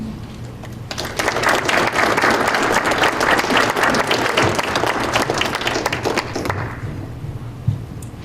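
An audience breaks into loud sustained applause for a speaker taking the stage at an economics lecture, dense clapping that swells, holds for several seconds, then fades away.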